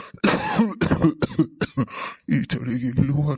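A cartoon character with a cold coughs repeatedly in short, harsh bursts close up, interspersed with voiced throat sounds and speech-like utterances.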